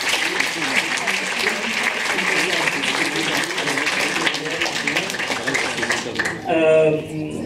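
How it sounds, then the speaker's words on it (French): An audience at a film festival closing ceremony in the Grand Est region applauds in a dense, sustained wash of clapping that fills the room, ending as a voice begins speaking over the fading applause. "On peut applaudir la région Grand Est."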